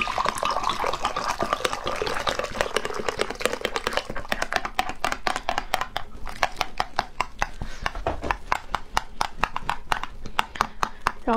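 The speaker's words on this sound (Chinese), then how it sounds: "然后再来热水，一定是 100度烧开的热水啊。" Freshly boiled water pours with a steady hiss for a few seconds, then gives way to fast, rhythmic clicking and scraping as the mixture is stirred quickly in a container, close and clear.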